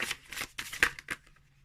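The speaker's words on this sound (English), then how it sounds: "I'll just cut the deck and grab one" A deck of tarot cards is cut and handled close by, giving several quick papery riffles and slaps that stop after about a second.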